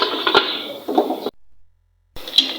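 A metal lid clanks onto a cooking pot of simmering pork leg with onion and black pepper, with a few sharp clinks and rattles, then a brief silence and another light clatter.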